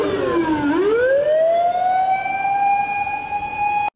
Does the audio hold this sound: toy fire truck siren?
yes